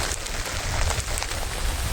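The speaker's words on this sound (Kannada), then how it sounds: "ಮಾತ್ರ ಭರ್ಜರಿ ಮಳೆ ಐತೆ ಮಾತ್ರ" Heavy rain falls steadily in a Malnad village, a dense, even wash of drops on surfaces with no other sounds.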